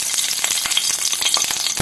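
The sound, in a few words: dried red chillies frying in coconut oil in a pan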